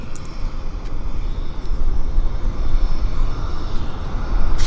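A jet airliner flares just before touchdown at Vancouver Airport, its engine roar a steady, loud broadband rumble that swells slightly toward the end.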